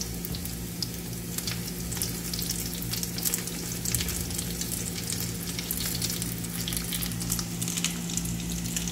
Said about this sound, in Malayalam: കട്ട്ലറ്റ്സ് അങ്ങനെ പാനിൽ കിടന്ന് മുരിഞ്ഞുകൊണ്ടിരിക്കുകയാണ്.